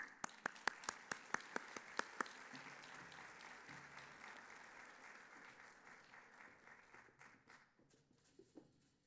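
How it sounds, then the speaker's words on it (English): Audience applause at a regional climate leadership summit, starting with a few sharp distinct claps that build into a steady wash of clapping before gradually thinning out toward the end. "Please help me thank and welcome her with a very warm round of applause."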